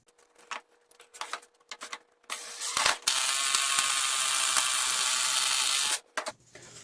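A 5/16 bolt being driven into a drilled hole in wood, first a few light clicks and rattles, then a loud steady powered whir lasting about three seconds before stopping, followed by a couple of brief clicks.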